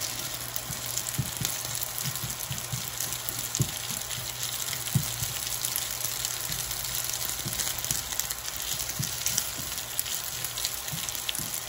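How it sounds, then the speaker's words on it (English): Curry fried rice browns in a hot pan, giving a steady close sizzle and crackle with scattered soft pops throughout. "now, if you look, you'll see that rice is starting to brown really good."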